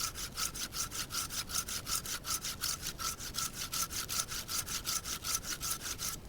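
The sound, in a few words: Bahco Laplander folding saw cutting wood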